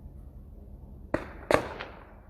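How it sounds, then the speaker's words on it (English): Two or three sharp gunshots ring out at a distance, each a sudden crack over a low background rumble. "followed by the sound of gunfire"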